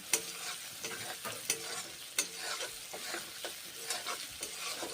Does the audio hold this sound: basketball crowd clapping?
no